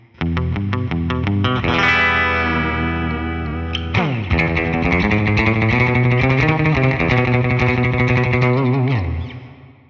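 Distorted Fender Jaguar Classic Player Special HH rings out alone in single-coil mode with low cut engaged, strummed chords and sustained notes with a thin, bass-light tone and chorus-like shimmer, loud and close.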